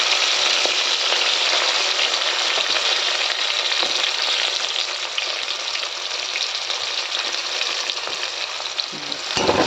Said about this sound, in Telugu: ఆయిల్ హీట్ అయ్యాక ఇందులో 4 యాలకులు, ఉల్లిపాయ, పచ్చిమిర్చి,